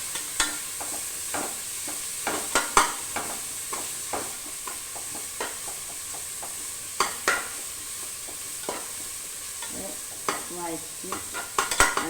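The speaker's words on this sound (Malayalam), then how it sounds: "ഉള്ളി വഴറ്റി കൊണ്ട് നിൽക്കുകയാണ്." Onions sauté in a frying pan with a soft continuous sizzle, broken by frequent sharp scrapes and clacks of a spoon stirring at irregular intervals, close and alone.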